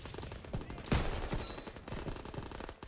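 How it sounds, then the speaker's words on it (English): Automatic machine-gun fire from the WWII shooter game Call of Duty WW2, a loud, dense burst of rapid shots with a sharp blast near the middle of the short stretch, heard on its own without talk. "MGs, open fire."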